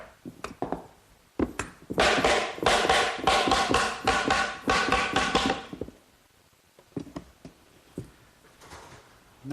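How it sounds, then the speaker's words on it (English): Glued wooden dovetail drawer pieces are tapped together in a workshop, a quick run of a dozen or so dense, close knocks, then scattered lighter taps with pauses between. "Glue on the tails and in the sockets, and then I just tap the 2 pieces together."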